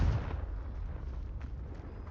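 A Confringo spell blast in Hogwarts Legacy, a muffled booming explosion with a heavy low rumble that fades over about two seconds, fairly faint.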